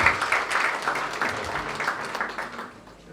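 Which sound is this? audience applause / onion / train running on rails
audience applause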